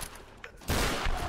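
Shotgun fire in combat from the video game Tomb Raider, a single loud close blast that booms and decays over a brief quiet lead-in.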